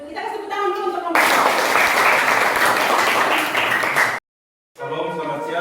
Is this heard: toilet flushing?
no